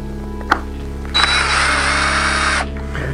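A handheld power drill backs screws out of a wooden block. After a sharp click, the motor whirs steadily and close for about one and a half seconds, then stops abruptly over a low background hum.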